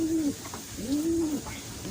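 Racing pigeon back home from a first training toss in Santo Tomas, Batangas, cooing in repeated rounded, moaning phrases, close and fairly loud, with no talk over it.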